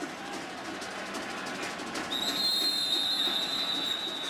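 A referee's whistle at a college football game between Ohio State and UCF blows a sharp, shrill, sustained blast for about two seconds over a loud stadium crowd roar.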